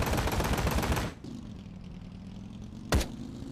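Gunfire in the video game Ride to Hell: Retribution, a dense loud burst of shots that cuts off into a steady engine-like drone, with one more sharp shot near the end.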